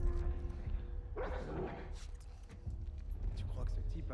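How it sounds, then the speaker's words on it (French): An infected-tracking dog in The Last of Us Part II barks and whines amid the game's dense soundtrack and ambience, while a player talks over it. "c'est un chien entraîné pour les infecter et elle est infectée."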